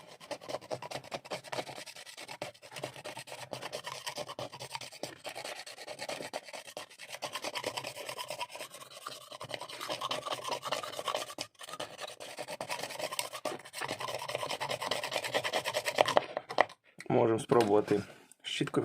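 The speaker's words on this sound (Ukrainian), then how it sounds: "Беремо бачок, чистимо його старим лізвієм від канцелярського ножа, воно легко сходить." Old paint scraped from the paint cup of a pneumatic spray gun with an old utility knife blade, a close, steady rasping scrape that runs on almost continuously, with a brief voice near the end.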